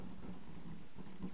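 Storm ambience in Fortnite: steady hiss of rain with low rumbling thunder, a continuous, fairly quiet wash with no clear individual claps and no voices.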